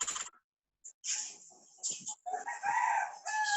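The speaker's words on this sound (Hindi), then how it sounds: "वाह, मुर्गा भी बोल रहा है" A rooster crows outdoors in a few bursts with brief gaps between them, heard fairly clearly and alone, with no talk over it.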